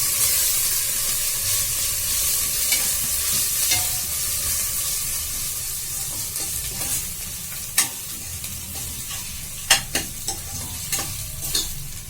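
Mutton curry masala fries in a pan with a loud, steady sizzle while a spoon stirs it. Sharp scrapes and clinks against the pan grow more frequent toward the end.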